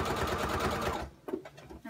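A sewing machine stitches a zipper onto a fabric pouch, running steadily and fairly loud for about a second before stopping, followed by brief handling clicks and a voice talking nearby.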